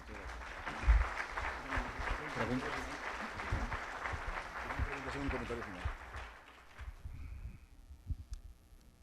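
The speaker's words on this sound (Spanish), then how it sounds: "a los dos les regalamos un nuevo aplauso" Audience applause for two speakers at a Mexican labor law talk on tripartism, a steady wash of clapping with voices mixed in, thinning out toward the end.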